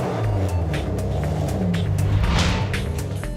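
A modern car drives along at the Cité de l'Automobile in Mulhouse, its engine giving a steady, close, loud rumble with faint revving swells and no voices.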